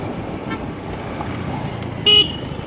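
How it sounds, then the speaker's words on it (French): A car passes close by on a road amid a constant rush of traffic, and a short, sharp horn toot sounds near the end. "On a failli se prendre une voiture."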